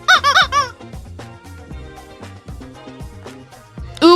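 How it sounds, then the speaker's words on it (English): A rubber chicken squeezed several times in quick succession, giving loud, wavering squeaks, then a musical backing with one last squeak at the end. "Ooh, I squeezed a rubber chicken"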